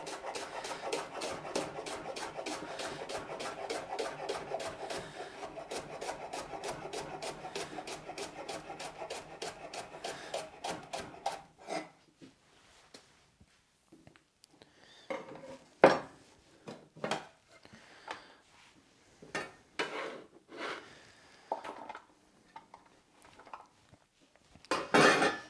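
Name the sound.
knife cutting leek into rings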